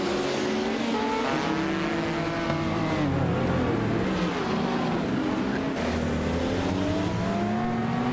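Racing video game cars roar off the start at Donington Park Vintage, a 2019 BMW M8 GT on pole, several engines droning and shifting pitch together in a loud, steady pack with no voices.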